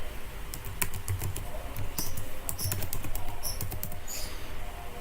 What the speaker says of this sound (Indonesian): Di sini kita ketikkan nama,